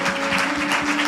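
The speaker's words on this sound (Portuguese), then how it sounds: "Dá uma salva de palmas para o nosso Deus." A church congregation claps in a brief, dense burst of applause accompanied by a sustained tonal hum, loud and close.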